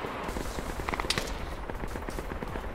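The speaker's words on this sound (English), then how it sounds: "Sounds like a suppressed MMG." Rapid crackling bursts of suppressed medium machine gun fire in the ArmA 3 video game, a steady stream of muffled shots heard at some distance.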